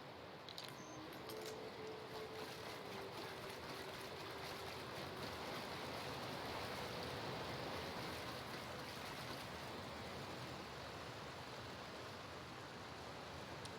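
Steady, dense rush of a waterfall in the video game The Outer Worlds, a continuous broadband roar that holds an even level throughout the clip.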